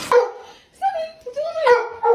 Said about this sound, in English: This dog saw his reflection and started a fight with himself.